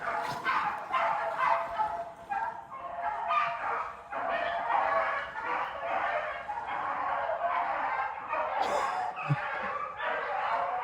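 Several young hunting puppies yip and whimper in fast, high, overlapping bursts, close and fairly loud, with no pause across the stretch.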